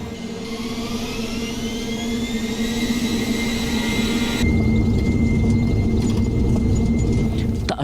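A passenger jet takes off in a loud, steady roar of engine noise with a turbine whine rising in pitch, the rumble thickening partway through; no one speaks.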